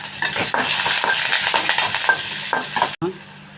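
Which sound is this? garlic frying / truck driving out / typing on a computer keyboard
garlic frying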